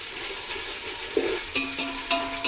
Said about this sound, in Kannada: ಇದನ್ನು ಕೂಡ ಚೆನ್ನಾಗಿ ಫ್ರೈ ಮಾಡ್ಕೋಬೇಕು